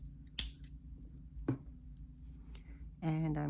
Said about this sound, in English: pull through, and cut my yarn